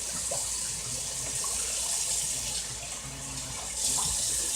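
Six cups of water pour steadily into a rice pot in a continuous rushing stream, close and fairly loud, with a slight surge near the end.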